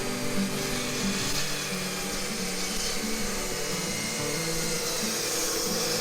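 A circular saw cuts through four hinoki cypress boards lined up together, giving a continuous loud whining buzz with no pauses.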